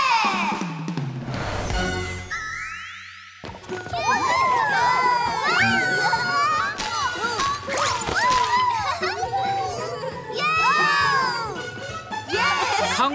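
An animated crowd of children cheers and shouts loudly and continuously in a PJ Masks cartoon, with bright overlapping voices rising in bursts over background music.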